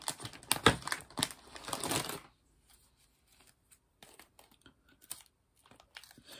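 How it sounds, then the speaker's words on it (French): Scissors cutting small paper strips for a handmade 3D card, a quick flurry of close crisp snips and paper rustling, then sparse faint clicks and handling sounds in near quiet. "Je vais couper avec un ciseau."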